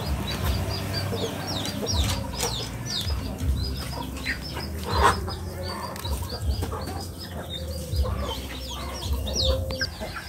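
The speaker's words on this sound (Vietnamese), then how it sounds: "Đây thì nhà mình có nuôi được bầy gà nè các bạn." A flock of farmyard chickens clucks busily and continuously up close, with a rooster-like call and brief wing flapping amid the steady outdoor chatter of the birds.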